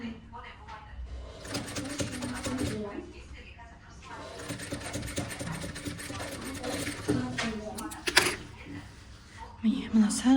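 A sewing machine stitches a vest, its motor whirring in bursts with short pauses between runs, while a person speaks over the stitching.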